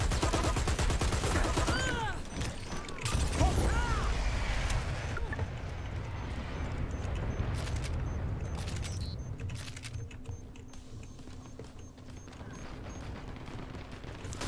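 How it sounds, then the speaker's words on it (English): Automated turret fire in the shooter game Dirty Bomb, with rapid bursts of gunfire and impacts running through the scene, loud at first and thinning out later, mixed with other game noise. "All I hear is a turret"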